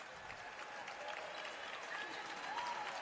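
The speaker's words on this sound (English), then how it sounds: "And a big round of applause from the Livingston fans for Mally Jean Coleman" Livingston fans applaud at a high school basketball game against DeKalb County, a steady wash of distant crowd clapping in a gym that holds for the whole stretch with a few faint whistles.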